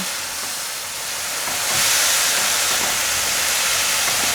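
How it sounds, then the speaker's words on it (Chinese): Napa cabbage stems tossed in a hot wok give a loud, steady hiss of frying that swells and stays strong after the first couple of seconds, with no talk over it. "现在放入大白菜的梗， 继续快速翻炒。"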